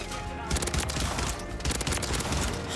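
Rapid bursts of rifle fire from the Rival 9 burst rifle in Modern Warfare 3, clustered shots crackling loudly over game music and a busy battlefield mix.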